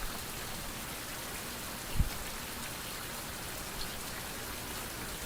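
Rain falls in a survival video game, a soft, even patter with one brief sharp tick partway through.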